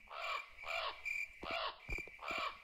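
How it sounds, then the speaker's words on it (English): Looping crow caws sound in a forest in the video game Leweung, five harsh calls in a steady rhythm, close and clear with no talking. "Endless looping crow noises, forest, and the same house over and over again."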